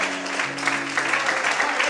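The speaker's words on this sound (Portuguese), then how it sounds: "Todos podem aplaudir o Senhor e glorificar o nome de Deus nessa noite" A church congregation applauds during an evening worship service, a dense wash of clapping with a sustained tone from music or an organ underneath, steady throughout the short stretch.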